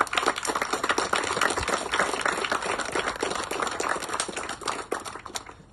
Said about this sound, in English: if you want to give the juniors a quick clap for that